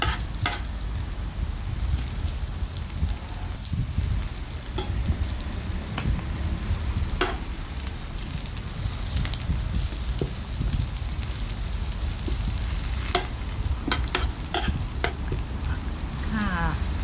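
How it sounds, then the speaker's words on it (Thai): A spatula gently turns eggs with pickled mustard greens in a hot frying pan, giving a steady close sizzle with repeated scraping strokes and occasional sharper clicks of metal on the pan. "เราจะใช้ตะหลิวลงไปเกี่ยวไข่ให้เบาๆมือนะคะ"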